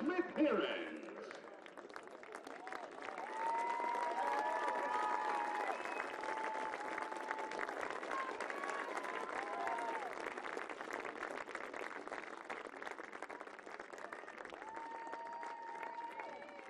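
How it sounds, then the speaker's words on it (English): Crowd applause for the runner-up team at the 2019 NCAA Division III women's soccer championship trophy presentation, sustained dense clapping from a large stadium crowd, heard at a distance and fading slightly over time, with a brief voice at the start. "Fans, put another round of applause for our 2019 national champion runner-up"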